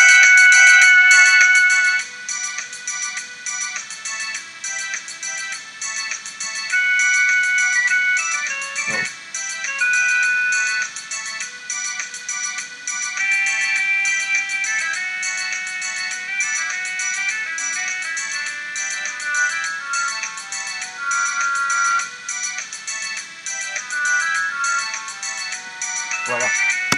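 MIDI playback of trombone sheet music: synthetic, electronic-sounding trombone notes play a steady melody with a thin, artificial tone, continuing for a long stretch without pause.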